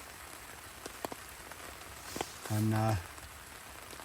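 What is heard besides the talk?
rain falling on a tarp shelter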